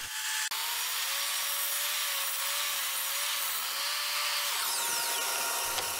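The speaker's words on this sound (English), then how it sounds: "so I turned my miter saw to 45 degrees and I cut out these two angled bits" A miter saw set to 45 degrees with a multi-blade cuts angled wooden brace pieces for a mobile BBQ cart, a loud steady whine after a sharp start, winding down near the end.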